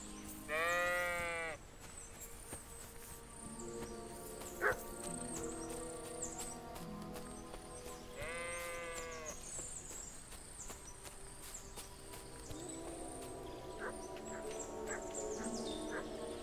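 Two loud bleats from a ram in a video game ring out several seconds apart over soft ambient game sounds, with faint clicks and tones between them.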